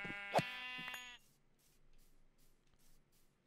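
A sheep in the Minecraft video game gives one loud, close bleat, followed by quieter rhythmic game sounds repeating at a steady pace.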